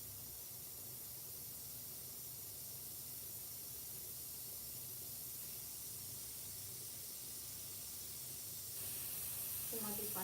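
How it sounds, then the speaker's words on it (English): A clogged airbrush sprays with a steady, airy hiss that runs continuously, growing slightly louder and brighter near the end. "Be a lot more fun if my airbrush wasn't clogged."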